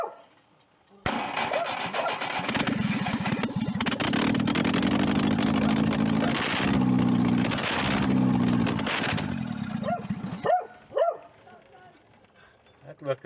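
A cold engine is started under heavy choke and cranks, then roars loudly and steadily for about nine seconds before cutting off, followed by a few brief clicks and rattles.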